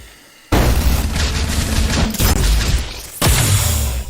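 A flash grenade bursts and a gunshot fires in an animated battle scene, loud booming blasts with crackling debris after a quiet start, then a brief dip and another heavy blast near the end.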